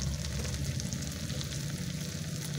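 Ground spices with turmeric sautéing in a pan, a steady close hiss and crackle of frying oil with no voices.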